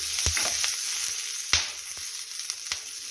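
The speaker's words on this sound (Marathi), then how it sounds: "एक दोन मिनिटच आपण ह्या मिरच्या भाजून घेऊ" Green chilies roast in a hot pan with a continuous sizzle, broken by sharp pops and scraping stirs at irregular intervals, close and moderately loud.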